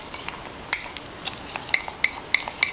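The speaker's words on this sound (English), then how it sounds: "Now we're going to stir it real good" Keto mug cake batter with a freshly cracked egg being stirred briskly, with a spoon clinking and scraping against the mug in quick, uneven taps, close and fairly loud.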